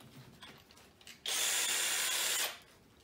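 A cordless drill fitted with a saber saw attachment kicks on close by, a loud high whine held for about a second before cutting off.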